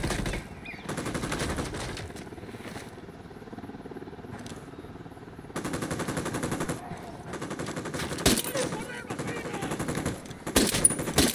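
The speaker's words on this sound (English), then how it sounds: "Opening fire." Bursts of rapid automatic gunfire from a video game firefight, loud and dense, coming in several sustained volleys with brief lulls between them and sharper shots near the end.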